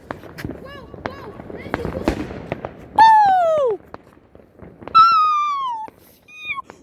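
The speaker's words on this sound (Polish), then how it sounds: "żeby jakaś fajerwerka wybuchła" Two long descending whistling shrieks of New Year's Eve fireworks rise out of mixed chatter and crackling noise, with a shorter whistle near the end.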